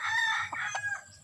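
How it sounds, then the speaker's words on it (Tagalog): A startled fighting rooster crows once, close and loud, its harmonic call cutting through steady low background noise with no talking. "Yung pansabong, nagulat yung manok guys kasi kinabahan siya, baka tutuhanin ba, no?"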